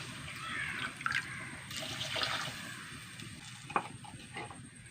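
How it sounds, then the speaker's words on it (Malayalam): Water splashing and trickling into a hot pan of sautéed shallots, tomato and curry leaves over a faint sizzle, with a few clinks of metal; close and moderately quiet. "ആവശ്യത്തിന് വെള്ളം ഒഴിച്ച് കൊടുക്കട്ടെ"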